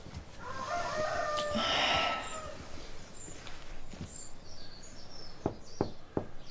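A rooster crows a cock-a-doodle-doo at moderate distance, followed by scattered clucks and short bird calls over a soft background.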